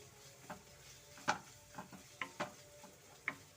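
Green chillies and salt frying in a pan for pepper chicken: a faint, low sizzle with a few sharp clicks and taps from stirring, spaced irregularly.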